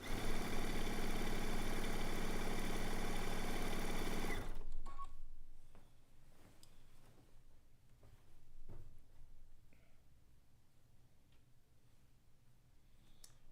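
A quilting sewing machine runs loud and steady for about four seconds while stitching down the side of a zig-zag quilt, then stops, leaving quieter handling clicks and rustles.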